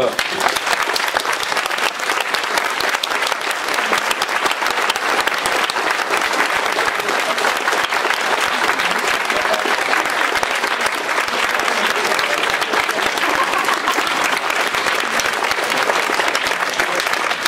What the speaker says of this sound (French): je vous demanderai des applaudissements pour Stéphanie Nicot